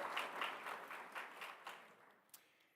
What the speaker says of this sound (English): You may give him a round of applause.